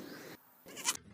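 A mobile phone ringtone imitating a bleating baby goat, heard as two short nasal bleats with a brief gap between them, close and clear, no talk.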